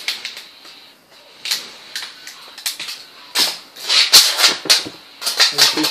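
A utility knife scores lines into an aluminium drink can, giving a series of close, sharp scratching clicks that build into denser bursts toward the end, with no talk.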